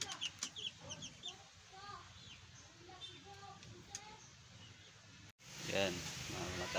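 Chickens and month-old chicks of fighting cock bloodlines cluck and peep softly in a farmyard, scattered chirps and low clucks throughout, and a louder squawk near the end.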